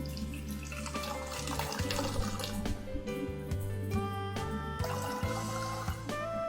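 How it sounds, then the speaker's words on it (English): Water poured from a beaker into a vessel in a home science demonstration, a steady continuous pouring and splashing that runs for several seconds at close range with rising tonal ringing as the air column shortens. "So I will pour the water."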